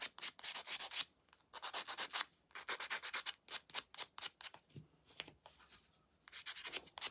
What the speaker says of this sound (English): Just give them a little light sanding, if sanding is your thing.